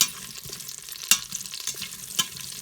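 Green chillies and onions frying in a pan for paneer dum biryani, steady close sizzling broken by a few sharp spatula clacks and stirring scrapes, no speech.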